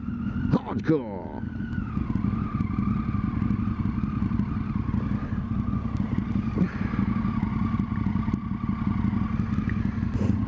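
A motorcycle rides through a wet, gravel and hardcore roadworks section on the E6, with steady engine drone and road rumble throughout and a brief clattering burst near the start.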